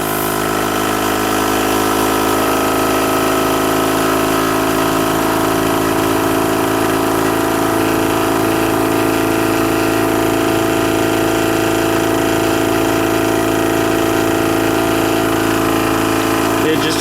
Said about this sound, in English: And turning on my air compressor.